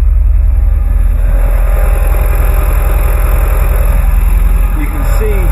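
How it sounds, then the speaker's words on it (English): An Audi TT Mk1 engine idles close up, running rough and misfiring on three cylinders from a bad coil pack, a loud uneven low rumble with irregular pulsing throughout. "The whole car, the engine is really rough. It's only firing on three cylinders."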